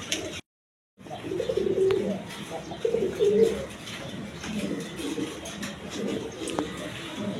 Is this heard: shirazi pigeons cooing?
yes